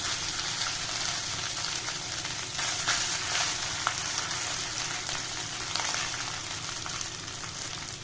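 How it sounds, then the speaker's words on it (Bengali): Cooked rice sizzles in hot ghee with whole spices and cumin, a dense, steady frying hiss close up with faint stirring scrapes throughout and no talk. "এবার আমি ঘিয়ের মধ্যে আমার ভাতটা ছেড়ে দেবো।"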